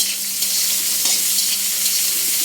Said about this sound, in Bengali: আমরা এখানে তেল দিয়ে দিলাম অল্প একটু তারপর প্রথমে এই যে পেঁয়াজ কুচি কাঁচামরিচ এগুলো দিয়ে দিলাম